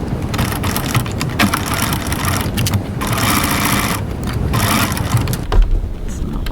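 A sewing machine runs a long basting stitch along a seam, a loud, close, rapid whirring chatter that goes on almost without a break, with a short slowdown midway and near the end.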